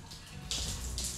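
Water runs from a newly fitted shower in a secondary bathroom of a house under construction in Jamaica, a steady close hiss that swells louder halfway through.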